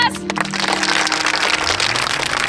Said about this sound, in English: All right, let's give them a round of applause.